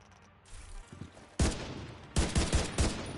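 Bursts of gunfire in The Division 2, three loud volleys of rapid shots breaking out after a quiet start, each rattling for a moment before stopping.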